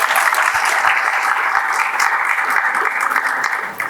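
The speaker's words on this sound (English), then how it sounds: "Can you give her a big applause?" An audience at a formal event applauds after a speech, steady, dense clapping held for about four seconds at an even level, with a faint voice or two mixed in.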